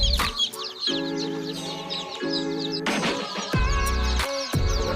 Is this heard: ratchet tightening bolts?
no